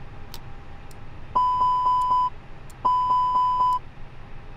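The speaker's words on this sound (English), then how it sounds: "Should be making a buzzing sound." Two bursts of rapid electronic beeping in the A320neo (A32NX) cockpit in Microsoft Flight Simulator, each a run of four sharp tones, loud and close with no talk.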